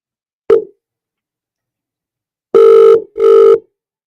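A telephone rings with an incoming call: a brief electronic blip, a pause, then two loud, evenly spaced ring bursts in a clean, quiet setting.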